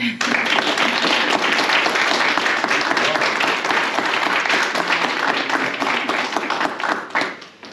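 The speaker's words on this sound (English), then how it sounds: "I think they deserve a round of applause" Wedding guests at Mercure Norton Grange clap in a loud, sustained round of applause with sharp individual claps close by, tapering off in the final second.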